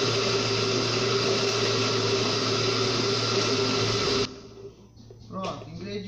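An electric blender mixes cassava cake batter with a loud, steady whirring for about four seconds, then stops abruptly, leaving quieter kitchen sounds.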